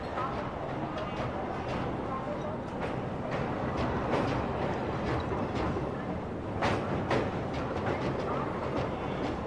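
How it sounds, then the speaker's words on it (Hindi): A train pulls out bound for Lucknow, with a steady rumble of wheels and carriages running continuously at close range, with scattered clicks and a brief louder swell near the end; voices are heard over it. "जा रही है लखनऊ की ट्रेन"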